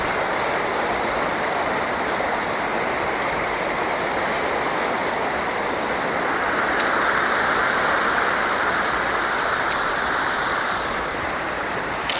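Water in a village stream flows steadily, a continuous close rushing wash with no breaks, heard alone throughout.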